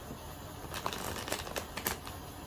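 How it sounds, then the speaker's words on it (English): A deck of tarot cards is shuffled quickly by hand in a quiet room, giving a soft run of riffling snaps and flutters with a few sharper clicks, close by but faint, over about two seconds. "I'm being called to shuffle real quick."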